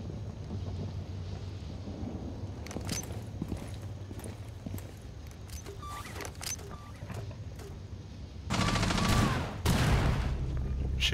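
Gunfire in Rainbow Six Siege during a Park map team deathmatch, heard as scattered sharp shots at middle distance over steady low background noise, turning into a louder, denser burst near the end.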